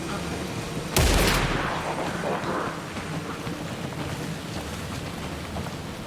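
Enemy gunfire in Alan Wake II: a single sharp, loud shot cracks out and echoes away, followed by a steady rain-like hiss and muffled background noise.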